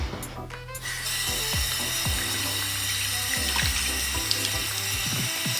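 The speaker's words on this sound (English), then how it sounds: "I'm just gonna wet my face and apply the cleanser, and then wet the and then wet the brush" Tap water runs steadily into a bathroom sink while a face is wetted before an exfoliating cleanser goes on, with repeated low clicking and ratcheting mechanical noises over the broad continuous flow and no talk.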